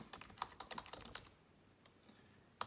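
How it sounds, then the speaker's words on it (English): A computer keyboard typing a command, a quick run of crisp close key clicks that pauses briefly before one final sharper keystroke at the end. "Next, I'll type in install scripts, get Windows Autopilot"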